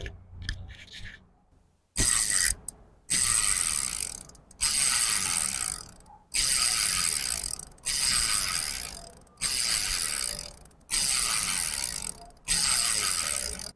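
A bicycle crank spins a thread-type sprocket and bottom bracket in repeated bursts, each giving a loud, dry ratcheting whir, separated by brief pauses, close up and with no voices.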